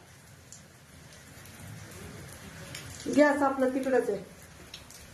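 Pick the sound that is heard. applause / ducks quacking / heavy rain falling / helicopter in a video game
heavy rain falling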